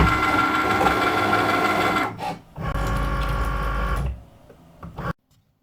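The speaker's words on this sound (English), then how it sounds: "my machine is actually reading the registration marks, and you can hear it doing that" A Cricut cutting machine scans registration marks on a printed sticker sheet, giving a loud mechanical whirring and buzzing with a brief pause and shift, then cutting off into silence.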